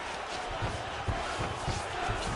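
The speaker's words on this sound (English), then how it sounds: "You hear this crowd just eating out of his hand, oohing and on every time he advances." Arena crowd in the UFC 4 video game murmurs and swells with low oohs during a fight, a continuous roar of many voices with a few thumping impacts underneath.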